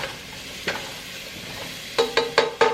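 Spoon stirring a vegan Tuscan chickpea dish in a pan: one soft scrape, then a quick run of four sharp clinking strokes near the end, close and fairly loud over a low background.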